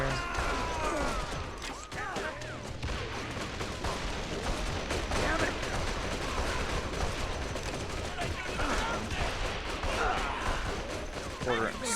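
Gunfire in the World War II game The Outfit: continuous battlefield shooting with dense bursts and distant explosions throughout, with someone talking over the fighting.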